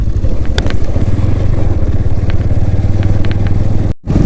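A BMW motorcycle engine drones loud and close, a steady low throbbing rumble with faint clattering over a mountain road ride from Manali toward Leh, cutting off abruptly near the end.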